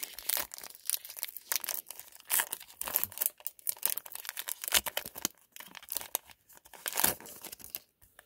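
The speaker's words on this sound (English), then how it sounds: "another Burning Shadows blister pack. Let's get in here and get a pack out." Close, crisp tearing and crinkling of plastic and foil as a Pokemon Burning Shadows blister pack is torn open, with quick irregular rips and rustles coming in bursts, quiet and near, no talking.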